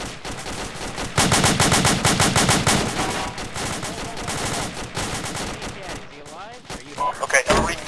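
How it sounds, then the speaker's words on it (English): Sustained AK rifle bursts in the Arma military video game, rapid loud repeated automatic gunfire with overlapping shots and a distant chaotic battle feel. "AK fire to the southeast"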